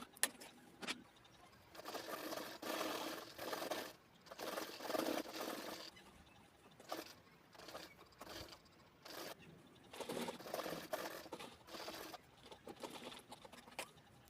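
Sewing machine stitching piping around a handbag, heard as faint bursts of rapid mechanical chatter that start and stop repeatedly, with short pauses between runs of stitching.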